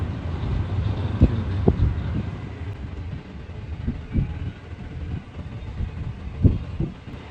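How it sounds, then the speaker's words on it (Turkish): A very long freight train passes near a town in America, a continuous low rumble of rolling wagons with periodic heavy clunks and thumps from the cars, steady and fairly close, with some wind noise. "Şu trenin sonu gelmez yani."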